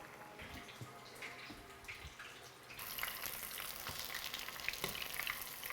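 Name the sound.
shrimp deep-frying in hot oil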